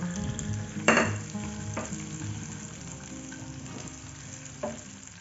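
Sliced shallots, crushed ginger and sliced red chili sizzle steadily as they are stir-fried in hot oil, with a few sharp utensil clacks against the pan and no talking.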